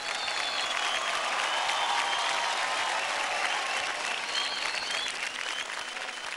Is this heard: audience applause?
yes